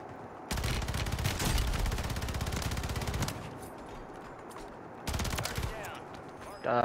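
Warzone 3 video game gunfire erupts in a long sustained automatic burst followed by a shorter second volley, loud and close, with a player shouting over the shooting.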